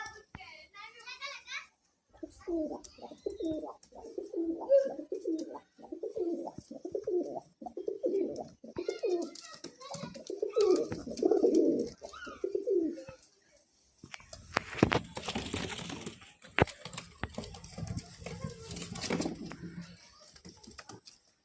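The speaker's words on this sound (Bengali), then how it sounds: "সবগুলো মুর্শিদাবাদি গিরিবাজ লাইনের পায়রা দেখতে পাচ্ছেন" Murshidabadi Giribaz high-flying tumbler pigeons cooing in a loft: a run of rhythmic, throaty coos repeating close by, followed by rustling and fluttering noise, with a voice talking at times.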